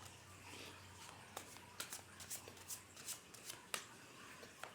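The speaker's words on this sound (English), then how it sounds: "Just one more quick shuffle and then we'll begin the reading." Tarot cards being shuffled by hand, a run of soft papery riffles and flicks, close and fairly quiet over a low steady hum, with no talking.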